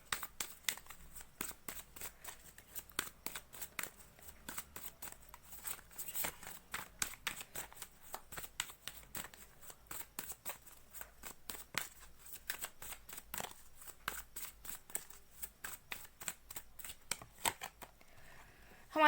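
A deck of tarot cards shuffled continuously for nearly twenty seconds, giving a quiet, steady stream of rapid papery flicks and riffles with no voice over it.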